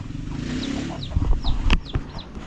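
Chicks peeping in short high chirps among fowl clucking nearby, with a few low thumps and scuffles, close and without talk.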